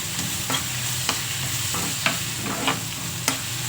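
Onions fry in a pan with a steady sizzle, broken by a few sharp scrapes and taps of a spoon stirring them, close and without any voices.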